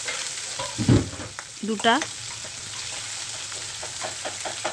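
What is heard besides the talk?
chopped onion frying with cumin in oil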